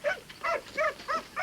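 A racing dog gives short, high yelping barks, four quick evenly spaced yips close by with brief gaps between, no talk.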